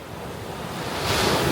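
Sea waves wash onto a sandy beach at Great Yarmouth, a broad rushing surf building louder toward the end, with wind buffeting the microphone and no voices.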